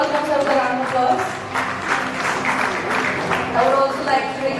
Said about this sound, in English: Can we please welcome Sir with a round of applause?